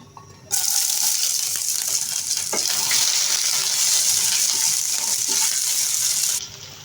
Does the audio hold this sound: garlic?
yes